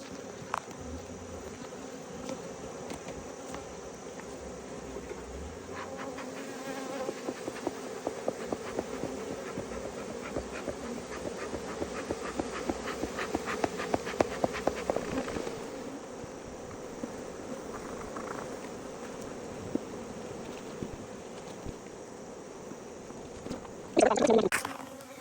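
Honeybees at an open hive on a cold morning, a close, continuous droning buzz with fluctuating intensity, rising somewhat midway, and a brief sharp rustle near the end.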